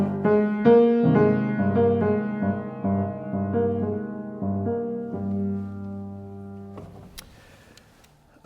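A choir sings Eric Charnofsky's Jubilate Deo in a passage built on a Hebrew-style scale with a lowered second degree. Sustained, layered chords shift step by step, then the singing fades and a brief rustle follows.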